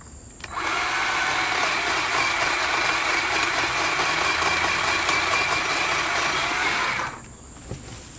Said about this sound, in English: Now we're going to cut down one of the bigger branches.